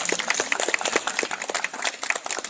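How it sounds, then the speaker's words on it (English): An audience at the Singapore Night Safari creatures-of-the-night show claps after an owl's flight, a dense, steady patter of many hands close by, with no talk over it. "I think she deserves a big round of applause"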